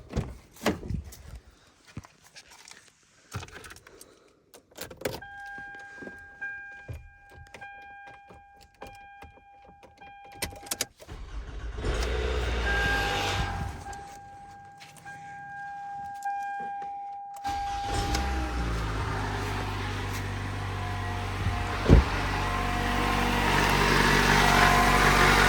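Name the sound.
Toyota Camry 4-cylinder engine starting and idling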